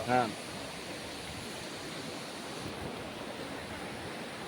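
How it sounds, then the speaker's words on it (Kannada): Bhadra river near Kalasa flowing steadily, a continuous broadband rush of moving water heard close up with some wind, after a brief louder burst at the start. "ನದಿ ಹರಿತಿದೆ"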